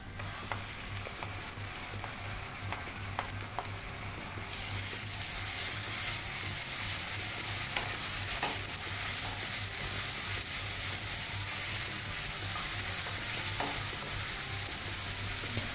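Onions with ginger-garlic paste fry in a pan for a jackfruit dish, a steady sizzle that grows louder partway through and continues evenly, with faint scraping stirs and a low hum underneath.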